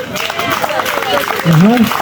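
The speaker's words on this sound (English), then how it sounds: "Can we give him a round of applause?" A round of applause for a speaker at a school debate in World Schools format, steady clapping from the audience with a voice speaking over it near the end.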